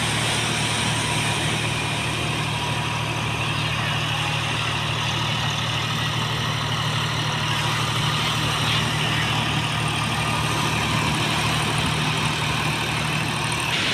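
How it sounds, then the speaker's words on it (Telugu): A tractor engine runs steadily and loudly close by as it hauls with ropes, a constant low rumble with no breaks and no voices. "ఇప్పుడు చూడండి ట్రాక్టర్కి ఎలా తాళ్ళు తగిలిచ్చేసి అలా తీసుకొచ్చేసి"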